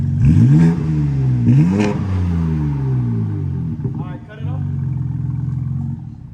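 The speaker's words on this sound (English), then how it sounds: "go ahead, rev it" A Chevrolet G8 with an SST valve controller fitted, low on fuel, revs hard twice in quick rising blips, then settles into a rough idle and another lighter rev, loud and close with people talking nearby.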